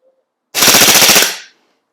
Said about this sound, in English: Now the third magazine, I will also fire 2 bursts.